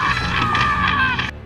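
A shrill, sustained human scream from a character in a 1985 vampire film, loud and close with a wavering pitch, cutting off sharply near the end.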